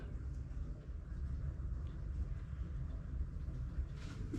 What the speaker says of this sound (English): sorry about the dishwasher noise